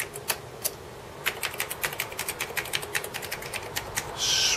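Keys being tested on a Commodore Amiga A1200 keyboard fitted with replacement keycaps inside a Checkmate shell: a quick, uneven run of close plastic key clacks, dozens of presses in a few seconds, ending in a short rustle.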